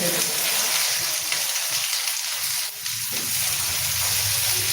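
Steady loud sizzling of vegetables frying in a clay pot, continuous crackle throughout with a faint voice briefly underneath.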